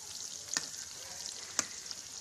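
Stuffed bitter gourds fry in a pan with a steady close sizzle, broken by two brief scraping stirs of a spoon about a second apart; no voices.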